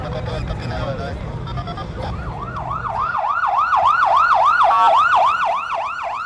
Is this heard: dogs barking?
no